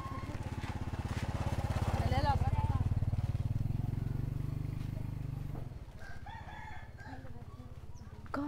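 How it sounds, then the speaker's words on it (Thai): A rooster crows in a rural hill village, its drawn-out call rising over a steady droning motor hum, like a motorcycle, with voices also heard. "ในทุกเรื่องราวก็จะมีเสียงมอเตอร์ไซค์นะคะเสียงไก่เสียงเด็กนะคะ"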